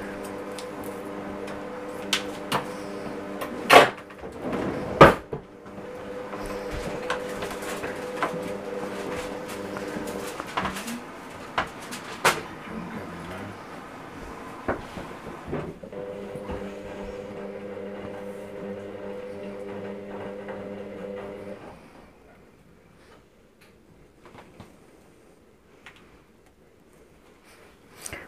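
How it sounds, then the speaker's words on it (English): A washing machine runs in a kitchen as a steady low motor hum with scattered clicks and knocks, continuing for about twenty seconds before dropping away to near quiet with a few faint taps. "I think you can hear the washing machine going."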